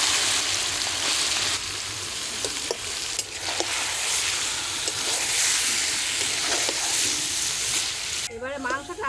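Marinated chicken drops into hot mustard oil in a kadai, a loud close sizzle and crackle of frying that hisses steadily throughout, with occasional stirring scrapes.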